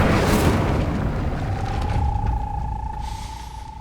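Incendio fire spell cast in Hogwarts Legacy: a loud, dense fiery burst and roar opening the clip, followed by a steady sustained tone and a fading rumble, with no talk.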